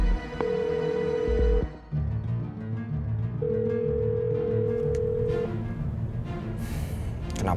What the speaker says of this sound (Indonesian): Kenapa sih Yasmin nggak angkat telepon?